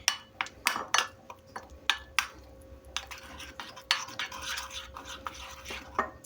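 A utensil stirring banana croquette batter thinned with water in a bowl, giving repeated sharp clinks and scraping strokes in an uneven rhythm, close and moderately loud.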